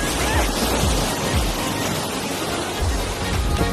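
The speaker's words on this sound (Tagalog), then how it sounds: "makikita mo yung alon, talagang tumatalsik dito, no? Yung alon." Sea waves splash and wash against the shore of a basalt island, with cold water churning in a continuous, loud rush and gusts of wind noise buffeting the microphone throughout.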